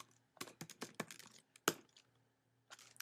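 Keys tapped on a computer keyboard while entering a command on a Raspberry Pi, a quick burst of close, crisp clicks, a short pause, then a few more strokes in a quiet room.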